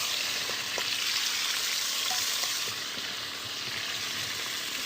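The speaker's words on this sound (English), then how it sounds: "Start off with your little drumstick there, wings. Just gonna seal that up and close all the flavour." Chicken drumsticks and wings sear in a hot pan with a steady, close, loud sizzle that runs throughout, broken by faint scrapes and light clinks.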